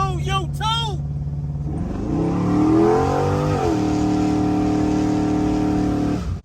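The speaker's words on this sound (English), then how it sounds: "72 convertible Impala LS3 swap. They run like this." LS3 V8 swapped into a 1972 Chevrolet Impala convertible, idling with a deep, steady rumble at close range and then revving up once before settling back to a loud, even idle, after a brief voice at the start.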